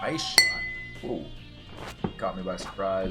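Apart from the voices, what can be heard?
fog machine knocked against a drinking glass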